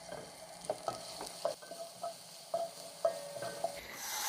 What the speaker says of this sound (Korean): 궁중팬을 달군 후 올리브오일 한 스푼을 붓습니다. 마늘 반 스푼, 파를 넣고 볶아주세요.